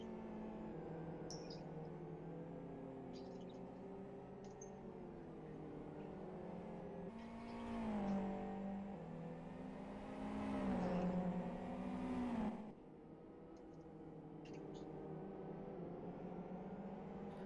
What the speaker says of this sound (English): Isaac Price leading a train of cars coming up the final corner to start their outlaps.